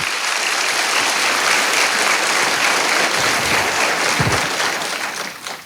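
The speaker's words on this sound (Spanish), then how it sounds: "Denle un fuerte aplauso al Señor por eso." A church congregation breaks into loud, sustained applause during a service, a dense wash of clapping that holds steady for several seconds before tapering slightly at the end.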